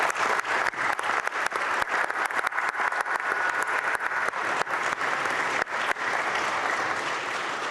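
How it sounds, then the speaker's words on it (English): A legislative chamber at the opening of the Texas 87th Legislative Session applauds newly sworn-in members. Steady, full applause from many hands is sustained at an even level throughout, with sharp individual claps standing out. "Let's give them an applause."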